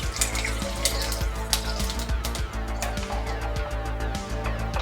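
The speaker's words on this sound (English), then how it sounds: "Now just put some ice on the cup and go ahead and pour yourself some." Homemade horchata, a Mexican rice milk, pours into a cup over ice, a close liquid stream broken by clinks and cracks of cubes shifting throughout.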